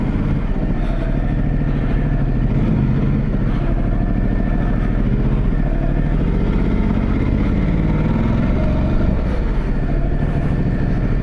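A Ducati Multistrada 1200 in enduro mode runs with a loud, continuous engine drone close to the microphone, holding a steady rumble for the whole stretch without pause.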